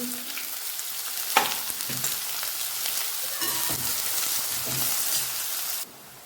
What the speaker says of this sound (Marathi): कांदा आपल्याला लालसर परतून घ्यायचा आहे